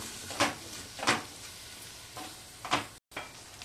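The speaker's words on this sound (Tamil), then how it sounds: "நல்லா வெங்காயம் தக்காளி வதங்கட்டும்." Onions and tomatoes sautéing in oil in a pan, soft sizzle under four distinct stirring scrapes spaced about a second apart, close and moderately quiet.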